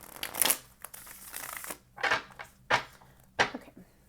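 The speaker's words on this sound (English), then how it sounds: "One more shuffle and then we'll get started." Tarot cards being shuffled by hand, close and soft, in a run of riffling bursts followed by three or four separate sharper shuffles spaced evenly apart.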